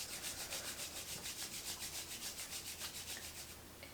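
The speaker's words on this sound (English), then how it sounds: "Bring your hands to heart center and rub your palms." Palms rub briskly together in a steady back-and-forth rhythm during a Kundalini yoga session, each stroke a soft close swish, continuing alone for several seconds before easing off.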